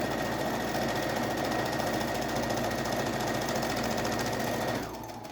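A sewing machine stitches a fabric placemat with a fast, even, close mechanical chatter that runs continuously, then slows and stops just before the end.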